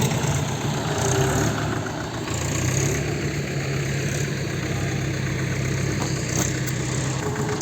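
A Mahindra tractor engine idles steadily close by, a continuous low mechanical drone with a faint rhythmic throb and no breaks.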